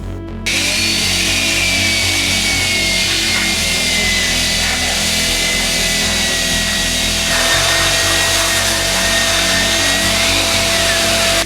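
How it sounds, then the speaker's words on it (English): A power tool cuts off an excess bolt, grinding steadily and loudly for the whole stretch, a continuous high whine with a rough buzzing underneath and no pauses. "I can cut off the excess bolt"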